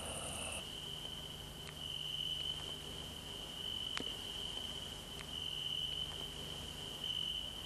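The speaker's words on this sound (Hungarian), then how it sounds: "Ahogy ezek a tücskök szólnak," Crickets chirping at night: a steady, continuous high trill held at an even, fairly faint level throughout, with a few soft clicks over it and no voices.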